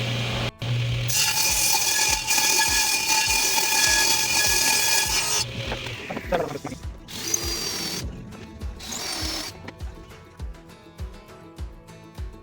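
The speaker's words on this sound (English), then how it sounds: "we'll just run this through the saw" A power saw cutting a wood panel for a shop cabinet in a workshop, a loud, even cut lasting several seconds, then the blade winding down amid scattered clunks and knocks.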